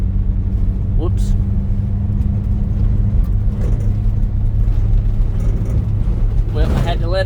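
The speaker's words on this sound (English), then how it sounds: "Now I am going to proceed to mash the pedal to the floor." Subaru Sambar engine revving under heavy throttle with a steady, loud low drone of engine and road noise that holds throughout, while people talk over it.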